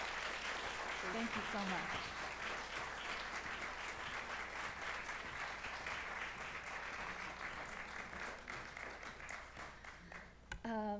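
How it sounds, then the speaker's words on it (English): An audience at a poetry lecture applauds in a long, sustained round of many hands clapping, and a voice briefly speaks over it near the end. "So if we could give one more round of applause."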